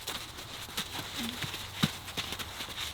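Soft, irregular hoof thuds and clopping of horses moving about on the ground, with faint background noise and no talking.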